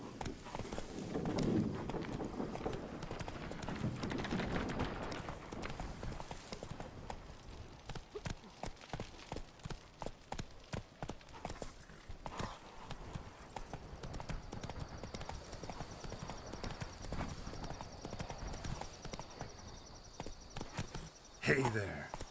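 Roach the horse's hooves clip-clop steadily in The Witcher 3: Blood and Wine, a continuous rhythmic trot with game ambience, and a voice speaks briefly over it.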